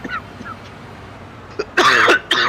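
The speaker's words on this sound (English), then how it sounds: "coughing me guts up here" A man sick with a cold coughs hard, a few faint hacks first, then two loud, harsh, rasping coughing bursts close to the microphone, with no talking.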